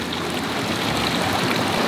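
A forest mountain stream flows in a steady, close, broadband rushing hiss with no breaks and no voices.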